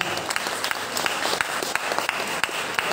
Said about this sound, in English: one more round of applause for our amazing guest speaker